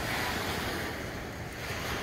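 Cold blue ocean surf washing steadily onto Secret Beach in Gibsons, a continuous broadband rush of breaking waves with some wind buffeting the microphone, no voices.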